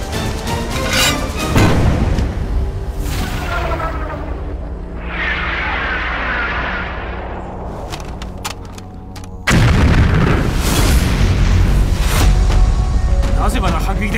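Heavy artillery fire in a war-movie battle scene, with loud booming blasts, rumbling decay and sharp cracks, a big renewed barrage partway through.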